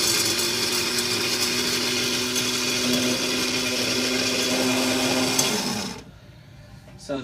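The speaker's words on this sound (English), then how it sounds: "And now we're going to grind the peppers." Spices being ground in an electric grinder, a loud, close, continuous whirring buzz with a steady tone that runs for about six seconds, then cuts off abruptly into near quiet.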